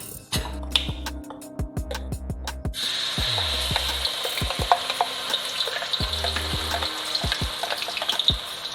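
Spice paste for Malaysian chicken rendang hits hot oil in a pan and starts a bright, crackling sizzle a few seconds in, steady and close, with scattered spoon taps while background music plays throughout.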